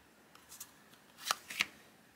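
Slippery foil-backed custom playing cards being handled and riffled, producing a few quiet, crisp flicking bursts close by with no talking.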